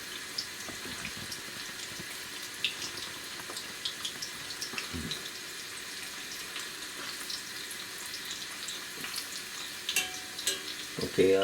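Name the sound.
crispy baby corns frying in a pan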